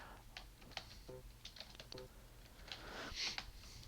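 A computer keyboard clicks in short bursts as commands are typed into a terminal, with light, uneven keystrokes close by over low background noise.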